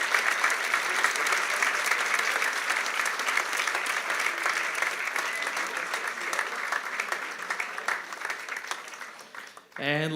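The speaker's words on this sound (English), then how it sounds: "And let's give everyone a round of applause." An audience at a school awards ceremony gives a long, dense, loud round of applause that holds steady for several seconds and then thins out and fades near the end.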